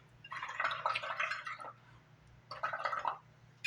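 Bubbles blown through water in two bursts, a long gurgling, bubbling stretch followed by a shorter one after a pause, close and fairly quiet.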